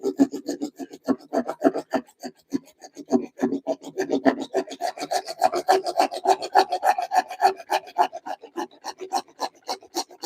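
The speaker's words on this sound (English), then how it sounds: "I want to saw this piece off" A hand saw cuts through a piece of wood in a home workshop, a steady back-and-forth rasping of even strokes that runs close and loud throughout with no talking.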